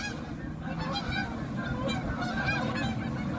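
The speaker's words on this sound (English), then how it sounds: "waiting for all these dang geese." Many geese honk continuously, a loud overlapping chorus of calls from a nearby flock with no pauses.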